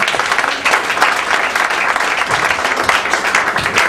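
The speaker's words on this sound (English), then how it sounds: "Clap for him." A church congregation claps together, a close, loud, continuous burst of applause with a slightly uneven rhythm throughout.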